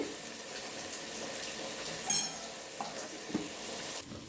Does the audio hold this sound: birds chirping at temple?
no